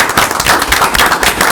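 An audience at a school board of education meeting claps to welcome a new special education coordinator, a loud dense patter of applause.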